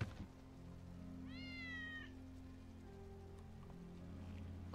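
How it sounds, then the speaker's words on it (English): A rescued cat in the video game Final Fantasy VII Remake gives a single drawn-out meow, fairly clear over a low, steady game ambience with faint rain-like patter and no speech. "Oh, there's cats that have been rescued."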